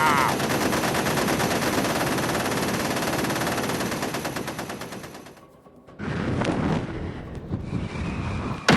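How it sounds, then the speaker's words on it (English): Sustained high-velocity automatic gunfire roars loud and close in a motion comic battle, a dense continuous burst that briefly drops away before another heavy volley resumes. "Those are high-velocity rounds!"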